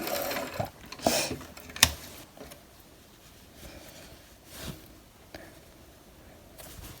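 A home sewing machine stitches with thread tension turned up to its maximum of 9, giving a faint mechanical whir with a few brief clicks and clacks, no talk.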